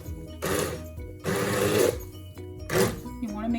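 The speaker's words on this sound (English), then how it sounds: "I'm going to use this awesome device, the hand blender, and I'm gonna shred this chicken." A hand blender shreds cooked chicken submerged in a pot, in three loud whirring bursts with short pauses between them.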